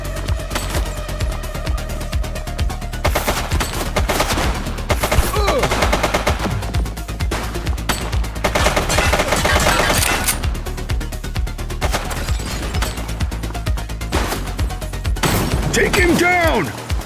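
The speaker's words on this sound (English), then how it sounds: "She's shooting!" Rapid bursts of automatic gunfire and scattered shots fill a video game shootout at a police precinct, loud and continuous over a music bed, with voices calling out between volleys.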